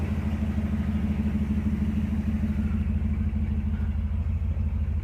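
An engine idles steadily at 650 RPM with a low, even rumble, close and continuous with no talk over it.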